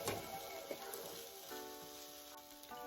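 Onions sizzling in a frying pan, a faint, steady hiss and crackle that runs unbroken from start to finish.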